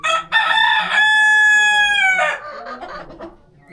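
A Brahma rooster crows loudly and close by, one long cock-a-doodle-doo with a sustained harmonic middle, followed by softer clucking.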